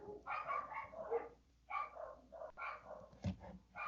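Dogs bark and yip in repeated short bursts close by, fairly loud, with some growly tones between calls and no speech over them.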